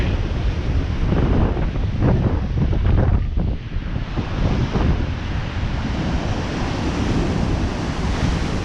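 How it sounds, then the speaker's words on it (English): Rough stormy surf at Blackpool crashing continuously with strong wind buffeting the microphone, a loud, steady roar of breaking waves with no voices. "people like the sound of the sea"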